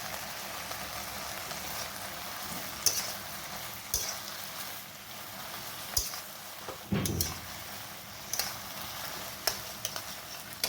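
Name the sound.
frying in oil in a pan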